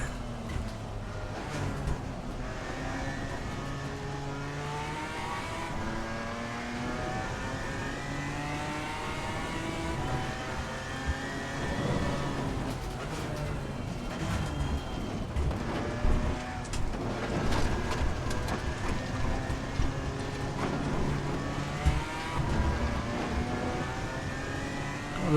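Race cars including Lamborghinis in Assetto Corsa Competizione, multiclass racing at dusk: loud engines rev and shift continuously, rising and falling in pitch as other cars pass close by.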